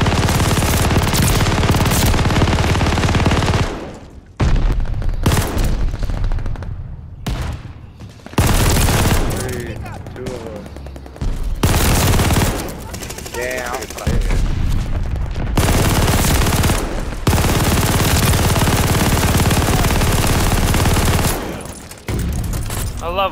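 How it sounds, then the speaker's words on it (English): An MG42 machine gun in a wartime shooter game rattles in loud, rapid bursts, long fusillades broken by short pauses, with heavy booms mixed in and close, dense gunfire throughout. "There's an MG42 at the window!"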